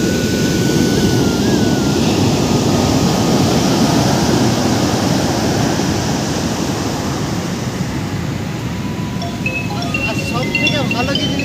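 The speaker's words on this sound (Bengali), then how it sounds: "যখন ঢেউটা আসছে পাইপ জল আসছে, আবার জলগুলো চলে যাচ্ছে" Sea waves on the Kerala coast break and draw back in a loud, continuous roar of surf with a broad rushing wash that eases slightly toward the end.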